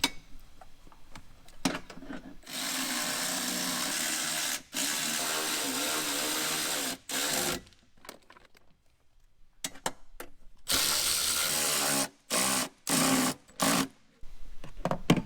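A power tool whirs while tightening bolts on a Toyota Hilux diff breather support bracket, with one long sustained run followed by several short, sharp bursts, close and loud against a quiet workshop.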